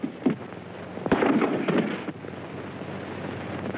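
A gunshot effect in a 1949 Lone Ranger radio drama sounds as two sharp cracks in quick succession over a low background rumble, with no speech.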